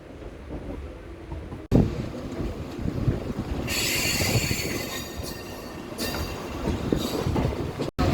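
A MEMU passenger train running between Guntur and Repalle, heard from aboard: steady loud rumble of wheels on rails with clacking over joints and bursts of high metallic wheel squeal, no talking.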